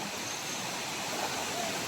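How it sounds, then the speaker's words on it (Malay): Fast-flowing stream water rushes along a hiking trail to Camp 5 at the Pinnacles in Malaysia, making a steady broadband hiss that is fairly faint and unbroken, with no voices. "Air dia yang laju."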